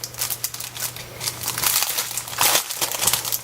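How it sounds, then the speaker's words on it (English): Papercraft swap packaging crinkles and rustles close up for a few seconds, a steady dense crackle of plastic and paper handling with a faint low hum underneath. "sorry for all the crinkling, folks"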